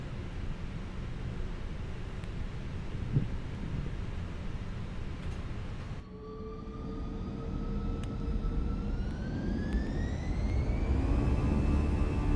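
Airbus A320 jet engines in Microsoft Flight Simulator 2024 spool up to 50% thrust, a steady roar joined midway by rising tonal whines that climb in pitch and grow louder, with no talking.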